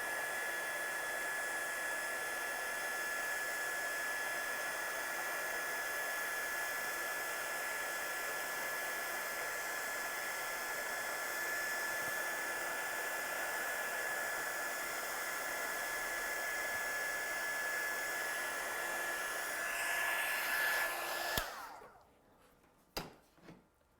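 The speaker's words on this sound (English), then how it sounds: "So I'm just going to heat set this one, and as you can see the powder will instantly change." A heat tool blows steadily for about twenty seconds while melting embossing powder on a card, a loud, even, hair-dryer-like whoosh that cuts off abruptly near the end and leaves quiet room noise.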